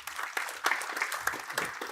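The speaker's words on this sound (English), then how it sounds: "Please give a round of applause to the panelists." Audience members at a Private Capital 2025 investment conference applaud the panelists after a panel session, with sparse, fairly quiet clapping made up of distinct individual claps over a couple of seconds.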